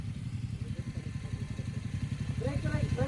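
A motorcycle engine idles close by with a rapid, even putter that holds steady throughout, and a voice comes in near the end.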